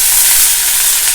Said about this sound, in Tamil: அதை தாளிச்சுக்குவோம்.